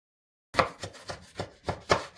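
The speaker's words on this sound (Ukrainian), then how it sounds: "Ріжу цього велетня." A knife cuts through a very large eggplant on a board, six or so dull, regular chops starting after a brief silence, close and clear with no talking.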